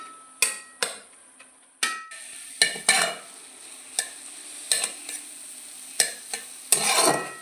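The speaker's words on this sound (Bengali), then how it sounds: "বন্ধুরা কচুর পাতাগুলো ঠিক এরকম নেড়ে নেড়ে রান্না করবেন" A spatula scrapes and knocks in a pan as taro leaves are stirred during cooking, about a dozen irregular close strokes over a soft simmering hiss.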